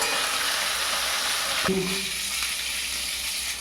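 Fish heads sizzle steadily in hot oil in a pan, a constant close crackle with a brief knock of a utensil partway through.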